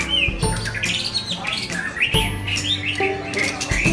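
An oriental magpie-robin sings at a bird contest, with loud, close, varied chirps and whistled phrases in quick succession over steady background noise from other birds.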